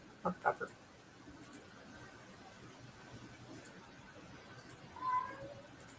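A house cat meows a few short times, faint and in the background, while someone talks over a low hiss.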